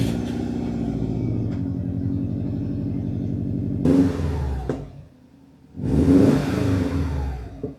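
A turbocharged EJ-series Subaru engine with its stock downpipe revs up in repeated bursts, a steady mid-pitched engine rumble climbing into two louder revs with a brief drop in between, heard up close with no talking.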